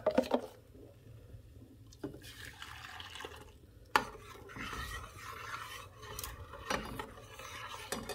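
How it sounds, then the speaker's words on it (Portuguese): Liquid sloshing and a utensil scraping around a metal pan, with occasional clinks, close and fairly quiet. "Vou dar uma mexida aqui dentro, que é pra limpar as bordas daqui"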